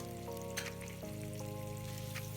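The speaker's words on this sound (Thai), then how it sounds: "ผัดเนื้อหมูสันคอกับกระเทียมให้สุกเลยนะคะ" Pork neck stir-frying with garlic in a pan, a soft continuous sizzle with occasional scraping stirs and a low steady hum underneath, fairly quiet and close.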